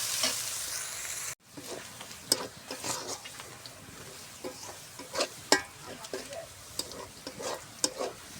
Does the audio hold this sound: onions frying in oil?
yes